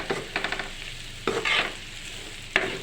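Coconut powder being stirred into a dish frying on the stove, a spoon scraping and clattering against the pan in several short bursts over a soft background sizzle, close and without speech.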